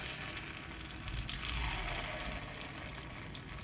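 Oil sizzles and crackles steadily in a kuzhi paniyaram pan as batter fries in the wells, a dense close hiss with no talking.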